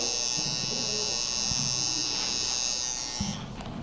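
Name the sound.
Wahl electric shaver running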